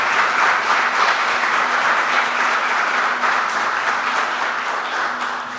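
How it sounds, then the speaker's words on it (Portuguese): A church congregation claps together in sustained, even applause, a thick roomful of hands that fades slightly toward the end, with no one talking over it. "Quem entendeu, aplauda o Senhor por isso."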